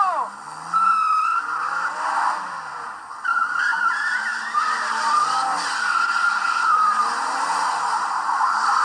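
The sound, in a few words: car skidding and driving off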